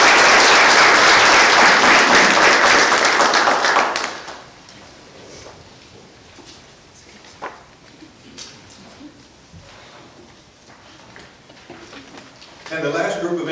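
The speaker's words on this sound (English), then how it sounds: "Give them one more round of applause." An audience at an emergency services employee recognition night gives the honored staff a loud round of applause that lasts about four seconds, then cuts off to a quiet room with scattered small knocks and rustles before a brief burst of noise near the end.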